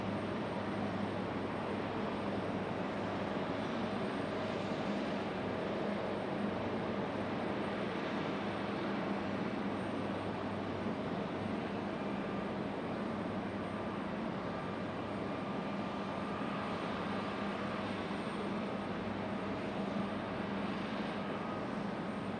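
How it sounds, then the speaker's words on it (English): A JetBlue Airbus A220 airliner at Raleigh-Durham International heard from a distance as a steady, faint, broad jet rumble that holds evenly throughout without talk. "Looks like we got a JetBlue A220."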